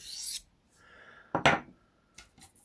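A knife blade, a Nolichucky Jack, being hand sharpened: short rasping strokes of steel across the stone, two quick swipes with a pause between them and faint scraping afterward.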